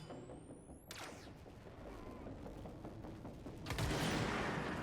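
Gunfire in the video game Control, a dense burst of weapon blasts and impacts over a steady rumbling backdrop, building to a louder crash near the end.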